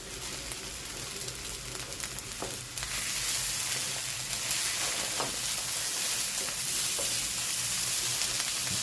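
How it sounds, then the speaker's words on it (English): Eggs frying and stirred into fried rice, a loud, constant sizzle that swells partway through, with scraping of the spatula moving them around the pan. "And then the eggs can go in. Just give them a good mix around."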